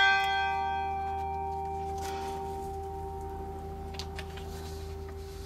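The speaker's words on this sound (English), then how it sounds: "We will ring one bell for each of these names as well." A single church bell struck once during a remembrance rite in a Lutheran church, its ringing tone sustaining and slowly decaying over several seconds in a quiet room.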